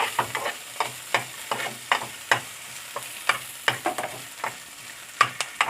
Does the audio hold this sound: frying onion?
yes